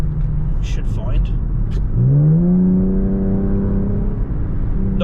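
A Jaguar XF petrol V6 in sports mode revs up with a rising engine note and settles into a steady drone, heard close beneath someone talking over it.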